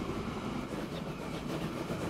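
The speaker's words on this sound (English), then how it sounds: "it's still a dang beautiful train" A train rolls steadily along the track in the video game Transport Fever 2. Its low, continuous rumble carries faint clicking from the wheels at a constant level, with no talk over it.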